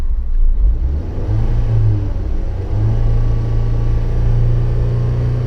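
Honda car engine held at a steady high idle above 3000 rpm, a continuous loud droning hum with a slight rise in pitch partway through, close and alone with no talking.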